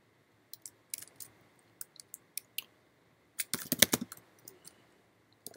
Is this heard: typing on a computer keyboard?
yes